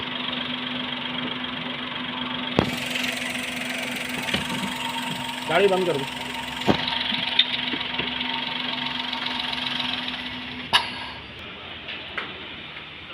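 A car engine idles with a slight shaking, a steady close hum with a constant mid tone, rhythmic knocking ticks and a few sharp clicks, under someone speaking Hindi.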